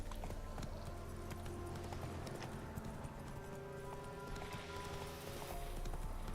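Horse hooves galloping in The Witcher 3 game, a steady clip-clop under a dense, loud wash of game music and ambience, with no talking.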